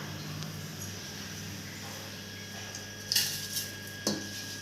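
Washed foxtail millet rice and lentils are tipped into a pressure cooker in a home kitchen. A few sharp metallic clinks and a brief rattle stand out over quiet room hum near the end.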